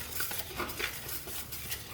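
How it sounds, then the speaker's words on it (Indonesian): A dough of flour, tapioca and spinach juice is stirred slowly in a bowl, giving soft, rhythmic wet scraping and squelching strokes, close and fairly quiet, with no talking. "Kita campurkan sembari kita aduk perlahan"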